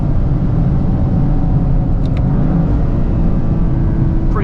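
A 2025 Toyota GR Corolla engine revs hard toward redline, a loud, continuous low roar heard from inside the cabin with a brief faint chirp near the end.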